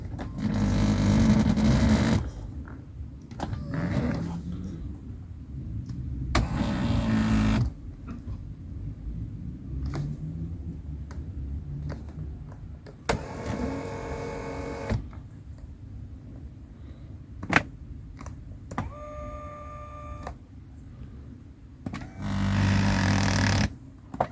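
Electric seat motors in a Tesla Model 3 whir in several separate bursts of a few seconds each, with quieter pauses and small clicks between runs; no one speaks.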